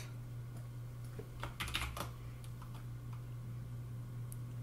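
Keypad buttons pressed one after another to enter a password, a short cluster of soft clicks and taps over a steady electrical hum.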